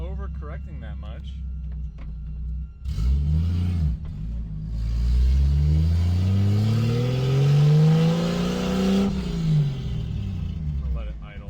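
Engine of a Lexus IS300 running as the car drives, a low steady drone with rising revs in the middle, heard from inside the cabin under a voice.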